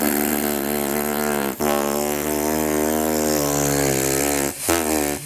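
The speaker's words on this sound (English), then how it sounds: "that long sound that the Didgeridoo makes when we play it correctly" A steady, buzzy didgeridoo drone made by lips vibrating against the mouthpiece, rich and continuous with two brief breaths interrupting it, loud and close.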